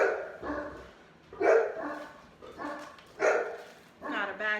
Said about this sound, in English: Sorry about the dogs. I think we're getting a delivery.